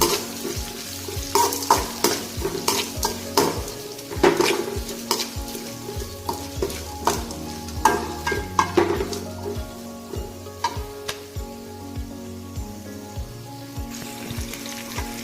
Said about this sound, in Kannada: ಚೆನ್ನಾಗಿ ಆನಿಯನ್ ಮತ್ತು ಬೆಳ್ಳುಳ್ಳಿ ಎಲ್ಲ ರೋಸ್ಟ್ ಆಗೋವರೆಗೂ ಈ ಥರ ರೋಸ್ಟ್ ಮಾಡ್ಬೋದು.